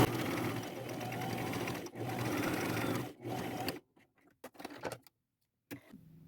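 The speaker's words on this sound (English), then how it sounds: "I fold over 1/4 of an inch and just run a straight stitch down it" Sewing machine running a straight stitch down a folded quarter-inch hem on thrifted clothing; a continuous close whir in two long runs with a brief stop between, then it cuts out, leaving faint handling noises and short taps.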